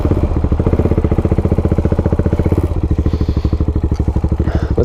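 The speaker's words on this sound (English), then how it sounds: "Do I want to do it on a single cylinder 700cc bike?" Single-cylinder 700cc motorcycle engine running close by, a loud, thumping, pulsing exhaust beat that stays steady and slightly eases in pace partway through.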